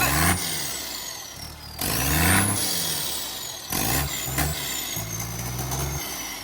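A farm engine starts up and runs with no exhaust fitted, giving loud, rough bursts of revving separated by brief drops, with a thin whine riding above the throbbing low rumble.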